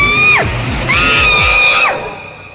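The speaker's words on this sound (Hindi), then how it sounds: "उसने अपना हाथ बक्से के अंदर डाला और जोर से चीखी" A woman screams loudly and shrilly in a horror audio story, two long piercing cries with a brief break between them, close and dominant, fading out at the end.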